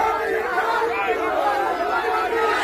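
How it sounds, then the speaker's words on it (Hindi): A crowd raising an uproar, a steady, dense mass of agitated voices and shouting at moderate loudness throughout. "अब देखिए भीड़ ने कैसे किया हंगामा"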